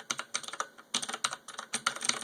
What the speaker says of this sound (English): It's mechanical backlit keyboard.